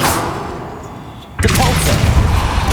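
The Confringo explosive spell is cast in Hogwarts Legacy, a fantasy video game. A sudden loud blast cuts in partway through, then a dense roaring rumble continues to the end over a quieter ambient bed.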